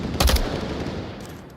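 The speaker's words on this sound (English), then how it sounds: "God, a lot of gunfire out here." Sharp rifle shots crack in the Onward VR video game, a quick burst of two or three close reports followed by fainter distant gunfire and echo trailing off.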